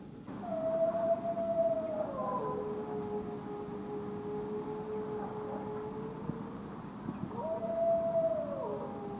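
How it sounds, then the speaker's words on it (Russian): Dogs howl in long drawn-out wavering tones across a residential district in Yakutsk, one voice gliding down and holding before others join, then a fresh howl rising near the end over a faint outdoor background. "Собаки воют."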